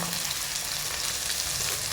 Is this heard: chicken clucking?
no